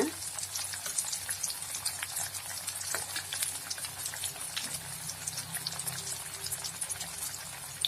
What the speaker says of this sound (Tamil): ஸ்லோவாக வச்சு ஃப்ரை பண்ணுங்க, இல்லைன்னா தீஞ்சிடும்